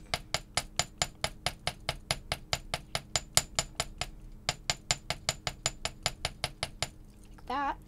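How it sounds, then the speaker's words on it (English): Rapid, steady metallic taps of a small metal chasing hammer striking wire jewelry, close and crisp, with a brief pause midway and a short voice at the end. "you can hammer the leg of the jellyfish with a metal chasing hammer"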